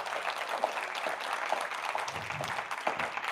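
Applause from an audience at a Vedic yoga talk during the Mysuru Yoga Uthsava, a steady dense clapping that fills the whole stretch with no voices over it.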